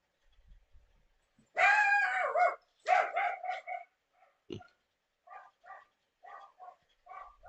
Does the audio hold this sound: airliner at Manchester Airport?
no